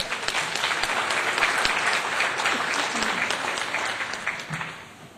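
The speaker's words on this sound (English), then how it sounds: "Let's give him a big round of applause." Sustained audience applause at an economic summit fills the space, dense steady clapping from a crowd that carries on for several seconds before tapering slightly.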